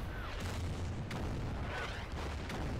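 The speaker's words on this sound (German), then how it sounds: "Oh, Artillerie hier auf der Brücke und dann nochmal heftiger Beschuss aus dem Stadtzentrum" Artillery fire and shelling on a bridge in the wargame Order of Battle, a steady low rumble of distant booms under battlefield noise, with several faint bursts spaced across the stretch.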